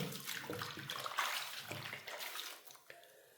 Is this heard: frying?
no